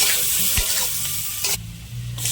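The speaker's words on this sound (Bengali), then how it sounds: "এবার আদা কুচি দেওয়ার পরে এটাকে আমরা একটু ভাজবো।" Chopped ginger fries in a wok for a masala kulcha filling, a steady broadband sizzle with brief scraping stirs and a low clunk, close and continuous without any talk.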